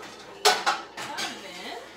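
Dishes and plates clatter in a home kitchen where they had been stored in the oven, with two sharp close knocks followed by softer scraping and shifting, and a faint voice in the background.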